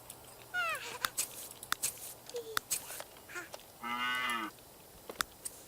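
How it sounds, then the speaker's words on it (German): A cow moos in The Sims 3, one drawn-out bellow near the end following a few shorter lowing calls, heard against quiet game background sounds with no talking. "Was schreit da? Eine Kuh?"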